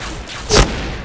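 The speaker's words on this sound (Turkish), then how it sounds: "Dikkat! Bomba atıyorum." A single loud bomb blast in the shooting game Point Blank, a sharp burst and rumble midway through, over a noisy background of game sound.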